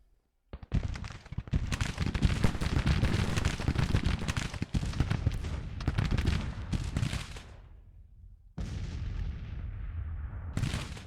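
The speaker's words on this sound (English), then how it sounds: "Garnett's artillery opening fire." Artillery batteries fire in the Grand Tactician Civil War strategy game, a Confederate campaign in spring 1861 across frost-covered fields: dense, continuous booming and rumbling cannonade, loud and sustained, briefly easing before resuming, with no talking.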